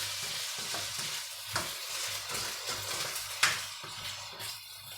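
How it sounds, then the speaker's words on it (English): Prawns and peas fry in a pan, with a steady close sizzle broken by scraping stirs and a couple of sharp clinks from the utensil against the pan. "so our prawns are cooking"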